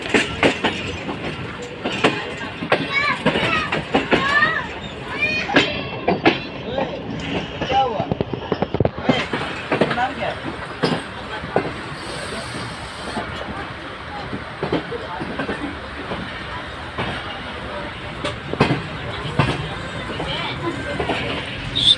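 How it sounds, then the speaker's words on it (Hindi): The Pak Business Express rolls slowly through Kotri Junction, a loud, steady rumble of rail wheels with rhythmic clacks and metallic squeals, heard close from on board over continuous background noise. "कोटरी जंक्शन में कोई भी ट्रेन हो अप या डाउन बिल्कुल स्लो पास करती है"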